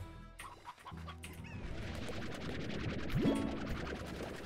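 An elderly hen in the Slime Rancher video game clucks over a steady bed of game music and ambience, a few soft, close clucks that stay under the background sound.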